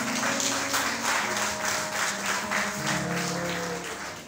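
A church congregation applauds during a French-language worship service, steady dense clapping sustained throughout with a faint musical tone underneath.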